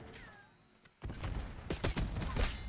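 Tanto .22 SMG gunfire in Black Ops 6, a quiet lead-in followed by dense rapid bursts of shots from about a second onward, loud and close with repeated sharp cracks.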